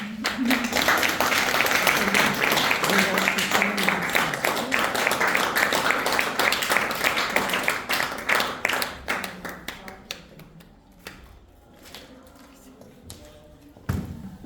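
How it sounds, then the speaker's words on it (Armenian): Applause from an audience at a lesson, a dense steady clatter of many hands clapping that holds strong for about eight seconds, then thins into scattered claps and fades, with a final burst of claps near the end. "իսկ դուք ծափահարեք"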